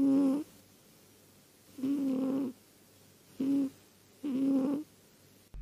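A cat asleep while hugging a toy duck snores softly and rhythmically, with four slow, low breaths separated by short quiet gaps, close and alone.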